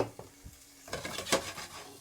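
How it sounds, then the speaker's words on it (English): Pancetta frying in olive oil in a pan, a soft sizzle with a few utensil scrapes and stirring knocks, close and moderately quiet. "Nice sizzle. Yeah. That's the sound you want to hear."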